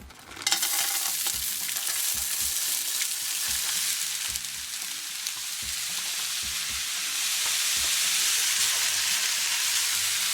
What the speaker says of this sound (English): I got some canola oil come up to temp here, and it's probably going to be kind of hot, and I'm adding frozen potatoes